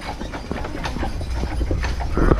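Horse hooves clip-clop on pavement as a carriage is pulled downhill on Mackinac Island, a steady rhythmic patter with rolling wheel noise close by and no talking.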